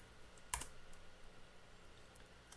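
A computer mouse gives one sharp, close click, followed by a faint second click a moment later, with quiet room noise in between.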